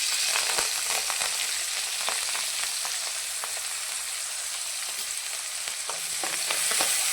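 Chopped tomato and a little coriander sauté in a pan over low gas for Marathi dal, giving a steady close sizzle and crackle with occasional stirring clicks and no voices.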